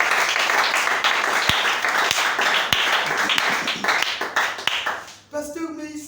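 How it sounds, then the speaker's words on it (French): Applause from a church congregation during a service, a steady wash of clapping that fills the space for about five seconds before fading, with a voice speaking briefly at the end. "Acclamez pour maman Sion."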